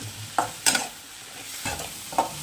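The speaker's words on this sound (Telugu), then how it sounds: "కంటిన్యూగా బాగా ఫాస్ట్గా వేయించుతూనే ఉండాలి" Spicy goat brain curry masala is stirred and fried fast in a pan, a low sizzle under a few sharp scraping knocks of the spoon against the pan at irregular intervals.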